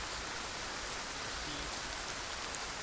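Steady rain falling outdoors in Chechnya: an even, dense hiss that fills the whole clip with no pauses and no voices.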